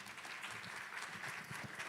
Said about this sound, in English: So please give Hilmar a big round of applause.